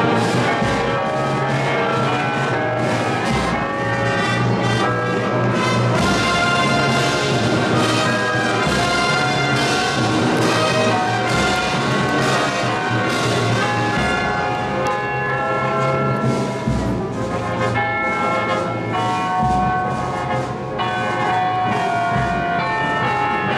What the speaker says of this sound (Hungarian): A zenekar és a harangjáték párbaja azt hiszem a világon egyedülálló hangzást hozott